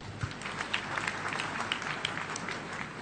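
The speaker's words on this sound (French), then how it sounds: "Acclamez pour elle." An audience applauds and cheers for a woman at a church gathering, a steady patter of clapping with scattered louder claps, moderately distant and sustained throughout.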